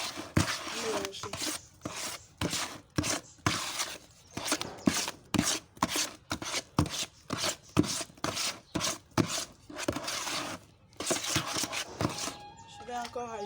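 Rhythmic scraping and swishing strokes of homemade liquid soap being stirred in a container, repeated roughly every half second in bursts with brief pauses, close and fairly quiet.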